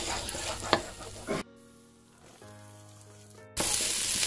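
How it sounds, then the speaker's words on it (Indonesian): Garlic frying in melted butter in a pan, a loud close sizzle at the start, a quieter gap in the middle, then the bright crackling sizzle returning strongly at the end. "Kita tumis 15 gram bawang putih atau sekitar 3 siung."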